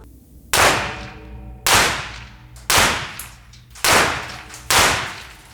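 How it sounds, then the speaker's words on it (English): .308 rifle rounds striking wood, five sharp loud cracks at roughly one-second intervals, each followed by a short ringing decay, heard from nearby at an outdoor range. "what we were hearing where the rounds were impacting the wood"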